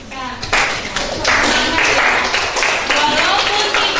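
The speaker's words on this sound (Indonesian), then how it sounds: "terima kasih tepuk tangan untuk Rika." Classroom applause during a teacher certification performance test, a group clapping steadily and fairly close for several seconds, with a voice speaking over the start.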